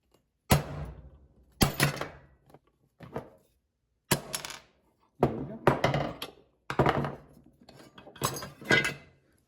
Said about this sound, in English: I'm going to see if I can tap that out with a screwdriver and a hammer.